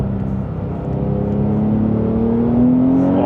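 A loud 3.8-liter Porsche 911 Sport Classic engine roars close by with a manual gearbox, its pitch climbing steadily as the car accelerates, a deep rumbling whine with no talking.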